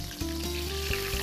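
Stuffed eggplant frying in oil over low heat, giving a steady, close sizzle that stays even throughout with a faint, constant tonal hum beneath it.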